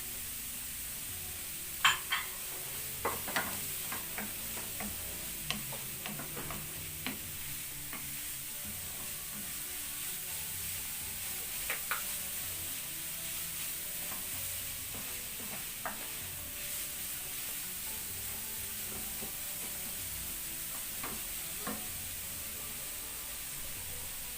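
Zucchini and garlic stir-frying in a pan, a soft continuous sizzle with scattered scrapes and clinks of a utensil stirring, close and fairly quiet, no talk.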